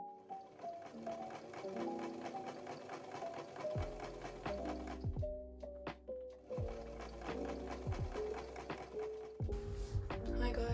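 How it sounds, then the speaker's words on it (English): Sewing machine running a straight stitch around the hem and edges of a jacket, with a close, steady whirring motor hum broken by short stops and restarts. "Then I just sewed all around the bottom of the sleeve and around the neck, centre front and hem of the jacket with a straight stitch."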